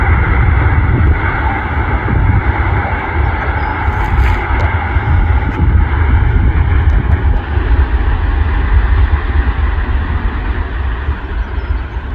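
An airliner taxis toward its gate at Manchester Airport, a steady loud broadband engine rumble and whine holding constant throughout without any speech.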